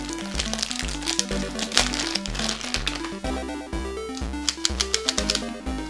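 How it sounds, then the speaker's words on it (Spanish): Rubik's-style speed cube with a clicking mechanism, arriving heavily lubricated, turned repeatedly close up, producing a quick series of sharp plastic clicks and crackles in irregular bursts. "Oh, me encanta. Mecanismo de clic."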